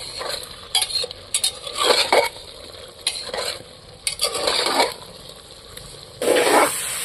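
Jackfruit sautéed with green chilli and ginger paste water in a pan, repeated scraping and stirring strokes with a sizzling bed underneath, close and irregular, no talk.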